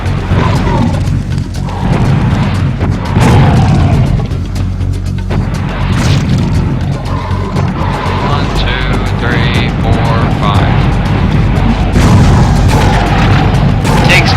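Rocket launcher explosions from the video game Serious Sam HD, with heavy booms and crashes packed into a loud, continuous battle din that lasts throughout.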